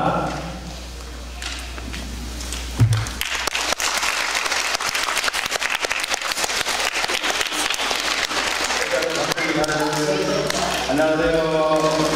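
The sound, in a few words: students applauding to welcome the lecturer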